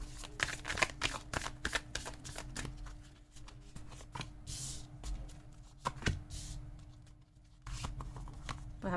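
Tarot cards being shuffled by hand, heard close up as rapid bursts of crisp riffling and flicking that start and stop in an irregular rhythm, with short pauses between bursts.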